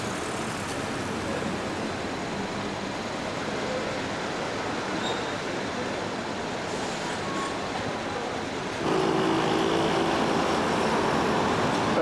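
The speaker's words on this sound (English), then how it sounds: "Above the road, metro rail system." An elevated metro rail train runs on tracks above a city road, a steady continuous rumble blended with traffic noise, growing somewhat louder near the end.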